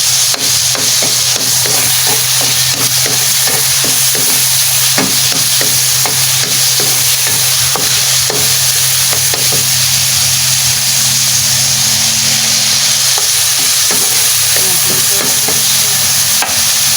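Tomatoes sautéing loudly in a hot pan under a constant frying sizzle, with a spatula scraping and stirring in a steady rhythm of repeated strokes throughout.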